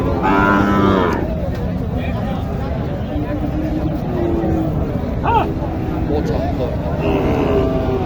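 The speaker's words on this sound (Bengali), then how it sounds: "এক চাচা নিয়ে আসছে একটা দেশি এবং সাইওয়ালের ক্রস বড় সড়ো গরুটি" Cattle moo amid a busy outdoor cattle market crowd in Joypurhat, with people talking and low calls rising over steady background chatter; bulls including a local Sahiwal-cross.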